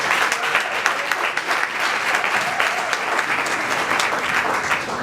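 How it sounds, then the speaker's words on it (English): An audience at a Sunday Circle presentation for International Women's Month applauds in dense, steady clapping that stays loud and even for the whole stretch, with no voices on top. "let us first applaud the brothers in the house here today"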